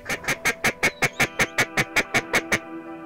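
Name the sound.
duck quacking while duck hunting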